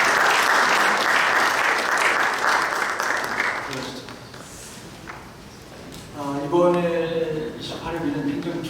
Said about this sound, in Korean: 저희 같이 인사할 때 박수로 격려해 주시면 감사하겠습니다